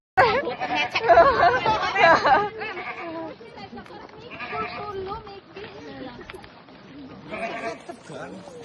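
A goat bleats several times near a village wedding procession, its calls mixed with lively crowd chatter and people talking close by throughout.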